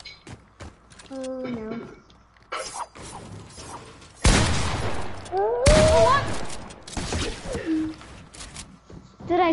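A shooter video game erupts into loud gunfire bursts, mixing heavy bangs and mechanical clatter with a few quieter earlier shots, while voices talk and exclaim throughout.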